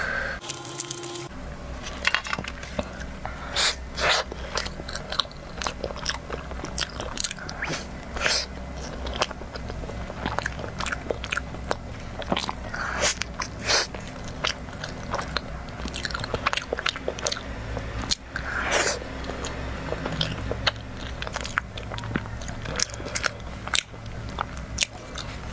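Sticky taro paste sweets being chewed in close-up eating, with steady wet crunches, squishes and bites repeating through the whole stretch, no talking.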